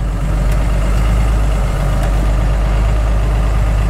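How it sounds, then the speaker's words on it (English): A Cummins diesel truck engine idling with a fresh fuel filter, a constant loud low rumble that holds steady at close range throughout. "It's idling a lot higher"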